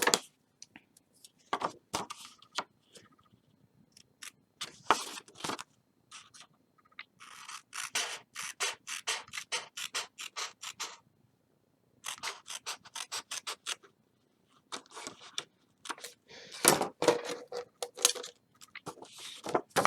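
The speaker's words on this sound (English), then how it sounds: "we are going to cut off where we scored" Card stock being cut along a scored line, a quarter-inch strip trimmed off for an upcycled mini album; close, dry snipping and scraping in short bursts with quiet gaps between them, no voices.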